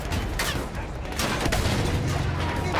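Artillery and rifle fire in the Battlefield 1 video game boom and crack in dense overlapping bursts, a loud, continuous barrage of blasts close at hand.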